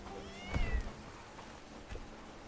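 A cat meowing in the video game Bellwright, one clear rising and falling meow early on and a shorter, fainter call near the end, both over a quiet ambient background.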